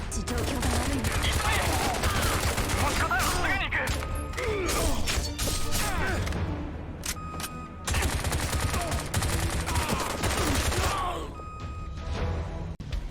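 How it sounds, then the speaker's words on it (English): Rapid bursts of gunfire in the video game Bright Memory, dense volleys with crashes and mechanical clacks, loud and busy throughout, with brief pauses between barrages. "The guns have good sounds and a satisfying level of feedback."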